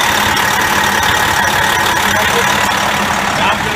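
A car engine idles steadily and loudly up close during an air-conditioning recharge, a constant rumbling drone with a person talking over it.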